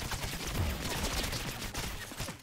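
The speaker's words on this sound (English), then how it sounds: "I have bouncy bullets and I can't stop firing" Rapid gunfire of bouncy bullets in the modded video game Rounds, a dense, continuous crackle of shots firing nonstop throughout.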